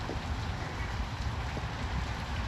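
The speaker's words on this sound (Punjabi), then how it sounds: "ਹੁਣ ਦੇਖੋ ਕਿੰਨਾ ਤੇਜ਼ ਹੋ ਗਿਆ ਮੀਂਹ" Heavy rain falls steadily in a village, making a dense, continuous hiss and patter without pause or voices.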